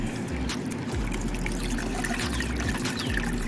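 Water trickles and splashes steadily out of a fish tank pump outlet, a continuous close liquid stream with low rumbling underneath and no talking.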